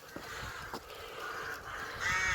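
Birds call from nesting sites, a noisy, continuous squawking chorus that fills the background at moderate loudness, with a few louder calls standing out and no talk over it.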